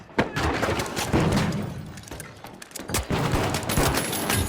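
Rapid gunfire from a firefight upstairs in the video game THE FINALS: dense bursts of shots and heavy thuds overlap continuously, fairly loud, with a few sharper impacts.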